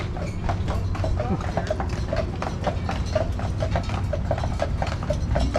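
Horses pull a carriage through Stanley Park in Vancouver, their hooves clip-clopping in a quick, regular rhythm close by over a constant low rumble of wheels and harness, while someone speaks underneath.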